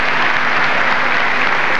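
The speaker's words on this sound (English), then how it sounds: "Prince Renier applauding them" Steady crowd applause at the 1993 announcement of the Sydney 2000 Olympic Games host city, with Prince Rainier among those clapping; dense and sustained for the whole stretch.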